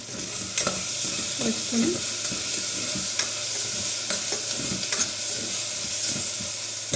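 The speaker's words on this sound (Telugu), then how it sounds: "ఇవన్నీ కూడా ఈ విధంగా ఫ్రై చేసుకోవాలి" Onions and curry leaves fry in a pan with turmeric, a steady sizzle and hiss running throughout as a spoon stirs and scrapes intermittently, with a brief word spoken over it.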